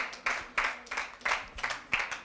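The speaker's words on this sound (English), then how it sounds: "Clap harder. You are clapping for yourselves." Audience clapping for themselves at a human rights week event, about seven loose, uneven claps or bursts across a couple of seconds, moderately loud and close, with no voices over them.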